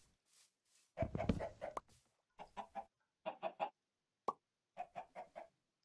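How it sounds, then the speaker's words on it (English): Minecraft chickens cluck in short bursts of several quick notes separated by pauses, clear and close with no talking. "Chickens are currently just loving the water, which is good"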